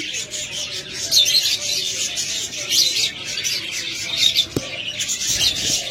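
Caged budgerigars, cockatiels, doves and lovebirds kept as breeding pairs chirp and tweet in a busy, continuous chatter, with occasional soft cooing and a sharp knock partway through.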